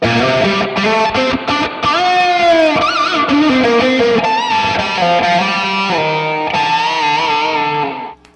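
An electric guitar through a Peavey XXL solid-state amp with its built-in reverb turned all the way up plays sustained, distorted chords, notes washing into each other and ringing out loudly before fading at the end.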